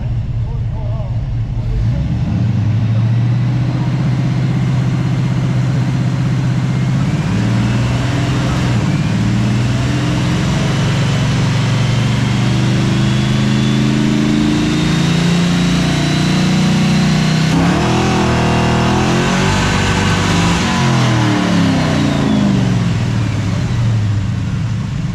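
A blue Chevrolet C10 truck's engine runs on a hub dyno at a truck show, a loud, close, continuous drone that climbs in pitch as it revs hard near the end, with voices talking underneath.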